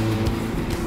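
A Ferrari F430 in race mode sends out a loud, close, steady exhaust drone from its engine for a brief moment.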